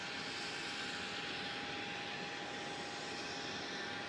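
Airliner jet engines whine steadily at Melbourne Airport while an Airbus A380 pushes back, a constant broad roar with a thin high tone, heard from a distance and unbroken.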